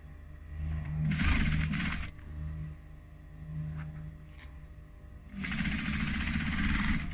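A sewing machine stitching down a seam on a fabric clutch wallet, in loud bursts of rapid whirring separated by quieter pauses, close and clear with no talking.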